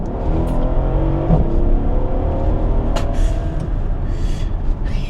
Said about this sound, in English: Let's see the kick down and go.